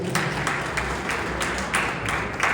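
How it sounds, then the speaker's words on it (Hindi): Loud, sustained applause from a crowd at a volunteer-run marathon event, with dense clapping and rhythmic surges as the audience welcomes a former bar association president to the stage. "तो आप सबके जोरदार तालियों प्लीज"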